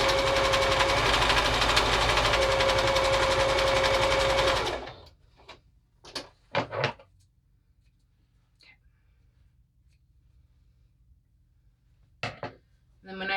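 Sewing machine stitching a quilt block seam, a loud steady motor whir running for about five seconds and then stopping, followed by a few short clicks and bumps in near silence.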